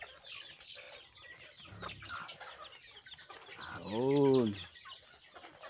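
Farmyard chickens and ducks at a rural countryside home cluck and call close by, with one louder harmonic call standing out near the end, over steady background noise and a brief spoken word.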